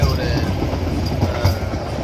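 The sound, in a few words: train running through Gir forest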